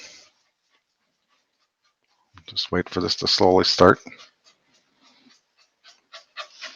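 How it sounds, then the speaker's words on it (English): Someone speaks briefly, then quiet, rhythmic huffs of a dog panting follow in short repeated bursts. "If you hear a funny noise, that's just my dog panting."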